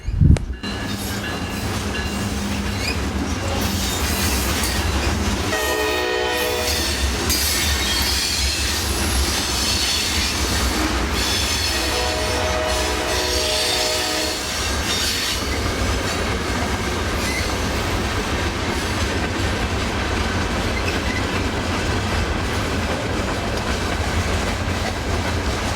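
An SW7 diesel switcher locomotive train rolls past close by for the whole stretch, a steady heavy rumble with wheels squealing and clacking over rail joints, no voices.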